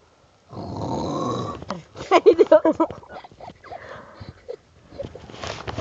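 Snoring from a neighbor, a few rhythmic rasping breaths heard close up, mixed with talk and joking voices that may imitate the snore.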